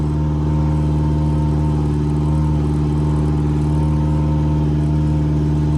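Yamaha 70 outboard engine, one with low-voltage charging trouble, running steadily at a close, loud, even idle drone with a constant low hum and no change in pitch.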